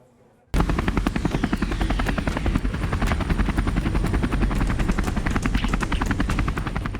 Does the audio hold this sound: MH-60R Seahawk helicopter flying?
yes